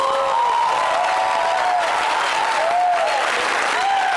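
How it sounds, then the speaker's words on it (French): Loud, full applause from a TV studio audience, with cheering and whistles rising over the dense clapping throughout. "logiquement, on devrait applaudir"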